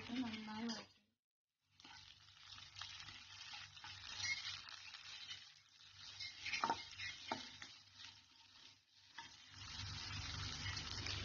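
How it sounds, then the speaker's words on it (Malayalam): Cabbage, beans, carrot and capsicum stir-frying over a high flame for vegetable noodles, a steady sizzle with scraping stirs and clatter, broken by one short pause near the start. "നന്നായി വഴന്നു കഴിയുമ്പോൾ അരി നീളത്തിൽ അരിഞ്ഞ പച്ചക്കറികൾ ഓരോന്നായി ചേർത്ത് കൊടുക്കാം. ഇത് ഹൈ ഫ്ലെയിമിലേക്ക് നന്നായി വഴക്കും."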